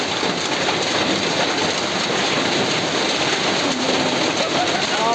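Steady, dense rain pours down without a break, loud and close, a continuous hiss with no voices.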